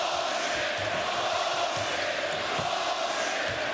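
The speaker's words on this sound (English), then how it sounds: "Crowd not agreeing with the officials' calls." Basketball arena crowd at a 2008 Celtics–Cavaliers playoff Game 7, a dense sustained roar of disapproval at the officials' calls, broad and steady, with faint ball bounces beneath.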